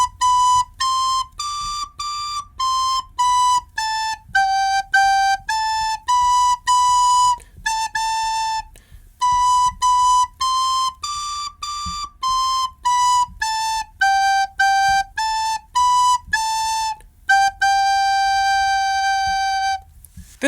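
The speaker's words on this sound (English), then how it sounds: "Now let's learn the classic song Ode to Joy. It sounds like this." Ode to Joy played on a recorder: clear, pure whistling notes, one tone at a time in a steady beat with short breaks between phrases, sounding alone and close.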